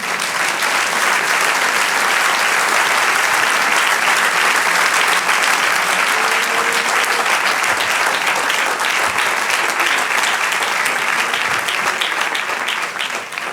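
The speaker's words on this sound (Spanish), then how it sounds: "Dale un aplauso al Señor." A church congregation applauds steadily and loudly throughout, a dense wash of clapping in a large worship space with a few faint voices mixed in.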